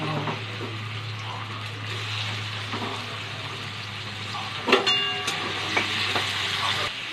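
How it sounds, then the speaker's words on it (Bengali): Shrimp frying in hot oil, a steady close sizzle over a low hum, with a few clinks and scrapes of utensils toward the end and no talk. "তেলটা গরম হয়ে গেছে, চিংড়ি মাছটা দিয়ে দেবো।"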